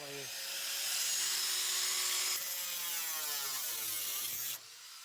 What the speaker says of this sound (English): cutting the rust out of the trunk.